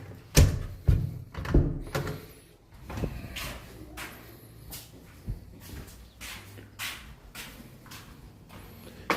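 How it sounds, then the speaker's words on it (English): A door at the basement entrance of a historic mansion in Fulton, Texas swings shut. A cluster of heavy wooden thuds and knocks comes first, then softer clunks and rattles fade out over several seconds. "Please close the door behind you"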